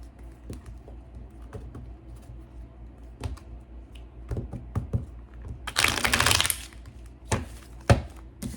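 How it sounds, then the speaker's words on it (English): Tarot cards being shuffled by hand: soft papery taps and riffles with a dense burst of card flutter near the middle, then a few sharp single snaps, fairly close with low room noise. "I'd like to do one more shuffle."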